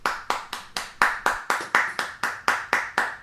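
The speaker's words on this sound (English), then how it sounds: "let's give Steve a nice round of applause" About a dozen single hand claps in a steady, even rhythm, close and crisp, from a viewer applauding a musician during an online livestream.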